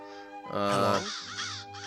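Crows caw in the Toonstruck adventure game, a loud harsh cry swelling in the middle then trailing off into a second fainter call, alone without talk.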